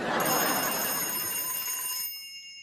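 A frog-shaped telephone rings in the middle of the night with a bright, continuous electronic trill, close and loud, then cuts off and fades away near the end.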